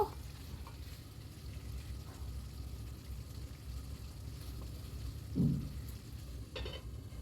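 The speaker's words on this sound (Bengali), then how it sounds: "এবার গরম মশলা আর কাসুরি মেথির সাথে গ্রেভিটাকে ভালো করে একটু নেড়ে চেড়ে নেব" Katla fish gravy with garam masala and kasuri methi sizzles quietly in a pan while a spoon stirs it, with one louder scrape near the end.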